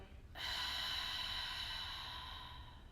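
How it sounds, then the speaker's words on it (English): A single deep yoga breath, drawn in slowly and released with a soft, airy hiss that lasts a couple of seconds, quiet and close with nothing else around it. "Inhale. Exhale."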